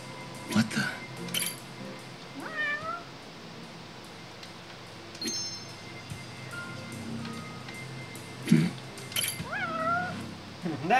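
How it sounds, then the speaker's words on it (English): A cat meows several times in a video game, in short rising mewls spaced through the scene, over a quiet background hum with faint clinks. "That's no pigeon. That's a cat."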